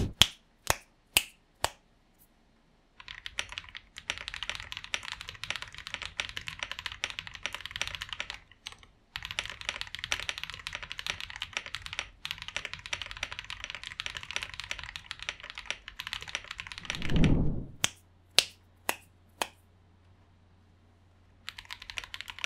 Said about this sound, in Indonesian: Ini dia typing testnya.